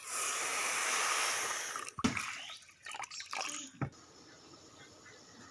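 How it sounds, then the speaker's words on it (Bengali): Water poured from a bowl into a wok to make sugar syrup, a steady splashing pour for about two seconds, followed by a few clinks and soft handling noises up close. "ওই বাটিরই মাপ করে আমি 2 বাটি জল দিয়ে দিচ্ছি"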